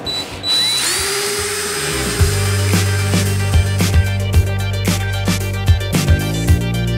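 A power drill bores a pilot hole into the metal lock of a soda vending machine, its motor whining up to a steady loud drone broken by repeated sharp grinding catches and clicks as the bit bites the metal.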